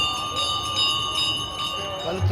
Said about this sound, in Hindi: गुरुजी के आश्रम पहुंचते ही हमें शंख और घंटे की ध्वनि के साथ पूजा अर्चना का माहौल दिखाई दिया।